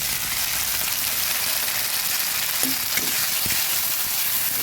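Onion paste hitting hot oil for a sesame katla fish curry, a loud, dense, even hiss of frying with a couple of faint utensil taps partway through, no speech.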